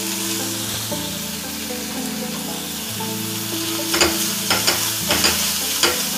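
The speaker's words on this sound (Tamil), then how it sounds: "இதுவும் சேர்ந்து கொஞ்சம் நேரம் வதங்கட்டும்." Onions with crushed ginger-garlic paste sizzle and fry in a pan, a steady close sizzle with repeated stirring and scraping strokes of a spoon, several sharper clinks near the end, no voices.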